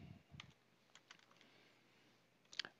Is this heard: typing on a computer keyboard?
yes